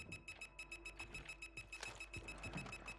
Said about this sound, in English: What fucking beeping am I hearing?